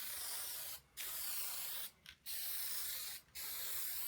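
Aerosol spray paint can hissing continuously and sputtering as paint is sprayed for an acrylic abstract painting, a loud close hiss broken by three brief dropouts where the spray cuts out, with no talking.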